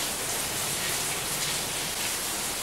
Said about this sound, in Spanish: Sí, este ruido es lluvia, está lloviendo a cántaros.